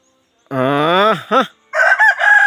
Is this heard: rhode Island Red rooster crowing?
yes